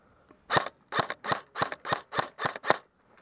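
Gunfire rings out during a military joint exercise: eight sharp, loud shots in an even rapid rhythm, fired close by with short gaps and no talk.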